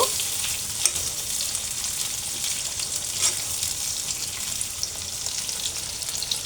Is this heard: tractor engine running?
no